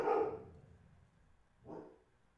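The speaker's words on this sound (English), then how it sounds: "My dog was, like, barking at something." A dog barks twice, a loud near bark at the start and a second, softer one about a second and a half later, against a quiet room.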